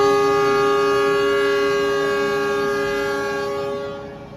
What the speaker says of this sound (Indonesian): ini kereta api Logawanya berangkat duluan